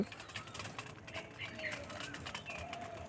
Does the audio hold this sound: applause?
no